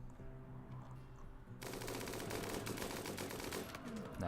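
Gunfire in the colony game Rimworld breaks out as a sudden, dense, sustained automatic rattle that continues steadily to the end over a low background hum, with no talk.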